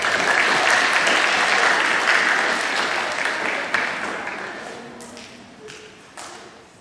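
Middle school awards ceremony audience applauds students just named, a full burst of crowd clapping that gradually thins and fades, with scattered individual claps trailing off at the end.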